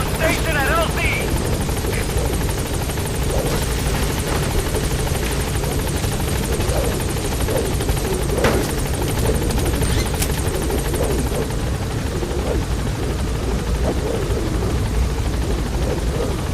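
Pequod helicopter from Metal Gear Solid V arriving at a landing zone: a loud, steady rotor roar and engine drone holding throughout, with faint radio voices and game sounds underneath.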